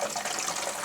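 Water gushes steadily out of the washer fluid reservoir of a 2001 Volvo S60, a brief, close, continuous splashing pour with no voices.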